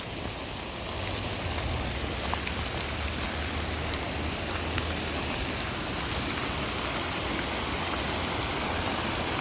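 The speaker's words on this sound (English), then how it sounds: "Yeah, folks, the creek still flows." A swollen creek running high like a raging river gives off a dense, constant rushing roar of water, broad and unbroken from start to finish, with no voices.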